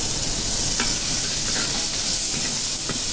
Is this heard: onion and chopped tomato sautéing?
yes